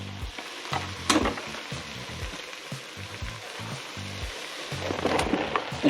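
Onions frying in a pan for elk chili give a steady close sizzle, broken by irregular stirring scrapes and knocks of the utensil against the pan.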